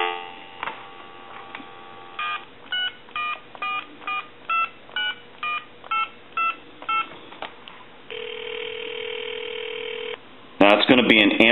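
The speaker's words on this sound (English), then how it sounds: "Here's some dial tone." A Trimline telephone handset gives a steady dial tone, then a string of about ten evenly paced touch-tone dialing beeps, followed by another long steady tone and a sharp burst at the end.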